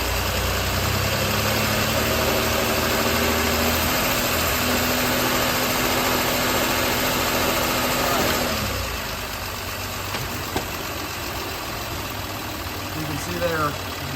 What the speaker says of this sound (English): Hunter's going to put it in reverse and brake torque it a little bit.